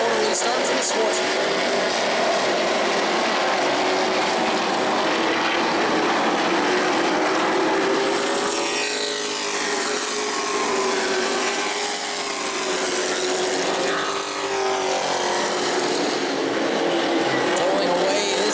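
Sportsman stock cars race at New Smyrna, a loud continuous engine roar with pitch sweeps as cars pass near, with a voice talking over the noise.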